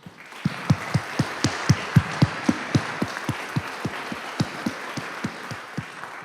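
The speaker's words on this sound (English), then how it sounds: "how about we give them a round of applause" Audience applause at a village committee meeting, honoring police command staff: steady, rhythmic clapping with evenly spaced sharp claps over a continuous wash of hands, moderately loud, lasting the whole stretch with no talk.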